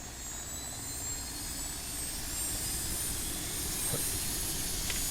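Helicopter engine spools up in a simulator game, a steady turbine-like whine and rumble holding fairly constant and loud throughout with no speech.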